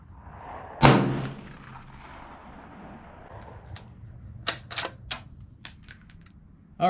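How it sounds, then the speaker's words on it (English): A Howa .308 rifle fires a single sharp, loud shot at a range, with the report decaying over a second, followed by scattered faint clicks and knocks. "Alright, first round, here we go."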